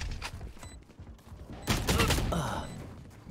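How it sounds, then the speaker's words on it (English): Bursts of gunfire in the Valorant video game, a rapid fusillade of shots that grows louder and denser partway through, heard alone with no talk over it. "Boss got shot from Griff from behind"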